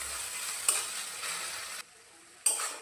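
Pasta sauce with chili sauce and salt being stirred in a pan, a soft steady sizzle with spoon scrapes, broken by a short quiet gap before the sizzling resumes.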